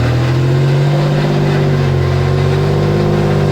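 Supercharged 3.4 V6 in a Toyota truck on a Sand Hollow off-road trail holds a loud, steady drone with slight pitch wavering, close by and continuous, with possible voices faintly underneath.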